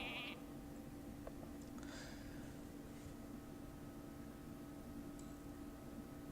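Bleat of a sheep created by the Polymorph spell in the Hearthstone card game: a short, faint, synthetic-sounding bleat at the start over a quiet background hum, followed by soft game chimes.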